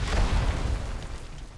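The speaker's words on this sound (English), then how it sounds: "Let's just go ahead and use our rocket jump." A goblin rocket jump from World of Warcraft erupts as a loud, close boom with a low rumbling blast that fades over a second or so.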